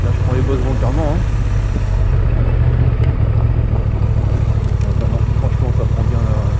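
Close, loud engine drone from a Honda Transalp 750 ridden deliberately over bumpy ground, holding a steady pulsing rhythm while a rider speaks over it.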